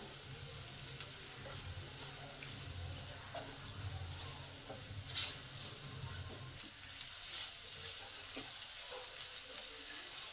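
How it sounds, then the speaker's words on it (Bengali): Ginger paste and chopped ginger frying with half-browned onion in a pan for muri ghonto, giving a steady, low hissing sizzle that runs continuously at moderate level with no voices. "আদা বাটা দিয়ে দিলাম।"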